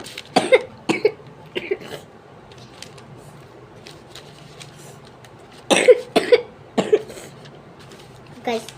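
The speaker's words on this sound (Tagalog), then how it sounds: "Ganon ang ubo ko." A person coughs in several short bursts, two or three quick coughs at a time with quiet pauses between them, close to the microphone.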